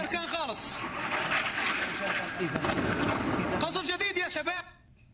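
News footage of bombing and gunfire in Syria, a dense roar of blasts and shots with repeated sharp cracks, heard under a continuous urgent voice-over talking throughout.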